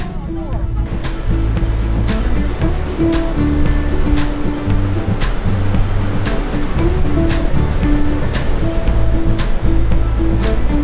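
Sea waves wash onto a shore at high tide, filling the path across the sand: a steady rushing surge with wind buffeting the microphone and periodic taps throughout.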